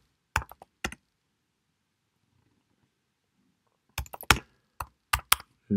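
Short bursts of keyboard typing, a few quick clusters of keystrokes near the start and again toward the end, separated by a long near-silent gap, close and fairly crisp with no talk.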